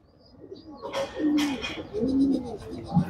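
A female racing pigeon from a 41-kilo tournament loft coos repeatedly at close range, with rolling throaty phrases and a few brighter chirpy notes mixed in.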